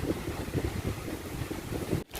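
Sea wind buffeting the microphone with waves rolling in at Mae Ramphueng beach in Rayong, a steady rumbling whoosh that cuts off abruptly near the end.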